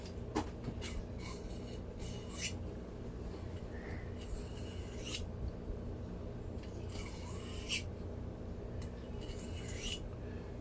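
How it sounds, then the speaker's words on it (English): Leatherman multitool blade raked across a leather strop, a series of quiet, close scraping strokes in short bursts separated by pauses over a faint background hiss. "You remember how quiet that was when we raked it across the leather?"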